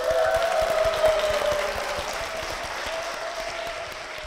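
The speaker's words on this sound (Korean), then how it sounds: "박수로 모시겠습니다" A church audience greets a deaconess with steady applause that starts strong and tapers slightly, a tone hanging faintly in the background.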